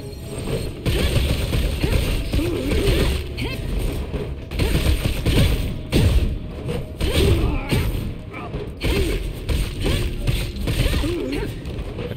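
Bombs in the action video game ANNO: Mutationem explode in a rapid run of heavy thumps and crashes, with loud bursts rising and falling over a busy layer of clanking mechanical effects.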